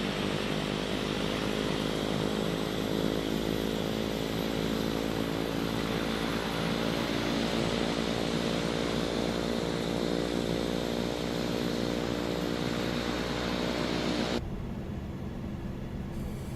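Black Square Caravan turboprop in a flight simulator, its propeller in beta range: a steady, loud, droning buzz with dense harmonic tones, holding evenly before cutting to a thinner hum near the end, no talk.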